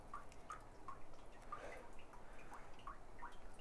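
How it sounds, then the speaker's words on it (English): Old engine coolant dripping and trickling from squeezed radiator hoses of a car, a quick run of small drips landing in liquid under steady low background noise. "I'm just waiting for the last little bits just to trickle out from that squeeze"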